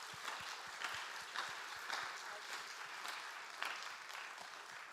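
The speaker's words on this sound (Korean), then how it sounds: "큰 박수로 그래도 우리가 환영했으면 좋겠습니다." A church congregation at a young adults' worship service applauds to welcome a speaker, a dense, continuous patter of many hands clapping, faint and distant throughout.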